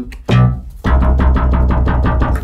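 A synthesizer bass line for a song recreation plays a punchy opening note, then a fast, evenly pulsing run of repeated notes, loud and upfront with no voices.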